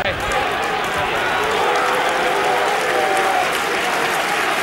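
Football crowd at Stockholms stadion during an Allsvenskan match between Djurgårdens IF and GAIS, a dense, sustained roar of cheering and applause filling the stands, with a commentator speaking over it.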